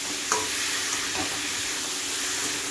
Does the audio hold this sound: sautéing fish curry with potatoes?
yes